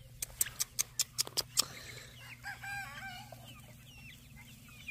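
A quick run of sharp clicks opens, then chickens cluck and warble in wavering calls nearby, with a low steady hum underneath.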